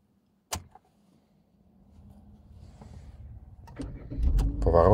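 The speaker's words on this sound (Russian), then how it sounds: "Поворот ключа в замке." Car ignition key turning in the lock as a driver shuts off the engine near Chekhov on the road to Tula: a sharp click, then a low rumble that builds into louder mechanical noise near the end.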